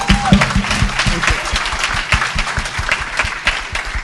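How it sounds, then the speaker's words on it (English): Audience applause for someone speaker on a tech panel at Muslim Tech Fest 2024. Dense, steady clapping from a crowd fills the room for about four seconds, with a brief tone near the start. "Let's give her a round of applause."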